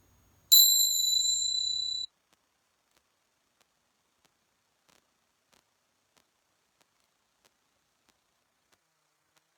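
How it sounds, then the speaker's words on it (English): A single bright metallic chime rings out clearly, a few ringing tones that sustain for about a second and a half before cutting off, followed by near silence. "I chime my bells again."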